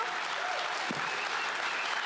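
An audience at the Henry Awards theatre ceremony breaks into sustained, even applause, a dense crowd-wide clatter of clapping hands that holds steady throughout without voices breaking through.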